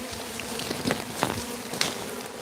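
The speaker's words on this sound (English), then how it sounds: "we're going to let the bees coagulate back where they were, because that's what they'll do" A swarm of killer bees buzzes loudly around a pear tree, a dense continuous drone with sharper passes and taps flaring now and then, close by and with no talk.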